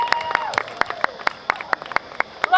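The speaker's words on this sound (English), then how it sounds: "let's give a round of applause to the incredible performer who kicked things off for us this morning, Lockie G." An audience at a university campus welcome event applauds a performer, with distinct sharp claps ringing out fairly close over a softer crowd background and a faint voice.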